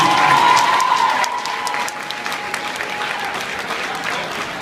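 School audience at Meyer Levin JHS applauding for Gamma, a dense round of clapping that is loudest at the start and then tapers gradually, with a faint steady tone underneath.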